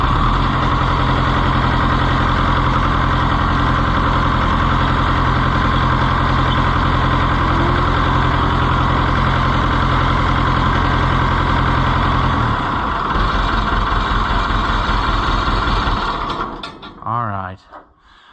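An Oliver 1365 tractor engine idles steadily and loud up close after a steering spindle repair, a continuous mechanical rumble with rattling that cuts down near the end as the engine shuts off and fades.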